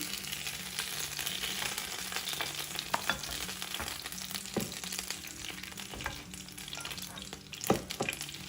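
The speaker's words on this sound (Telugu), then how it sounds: "అదే ఆయిల్లో 1/2 టీ స్పూన్ ఆవాలు, 1/2 టీ స్పూన్ జీలకర్ర వేసి వేగనివ్వండి" Mustard seeds and cumin frying in hot oil left from the green chilies, for mirchi salan: a dense, quiet crackling sizzle with occasional stirring scrapes and small pops, close by, with no speech.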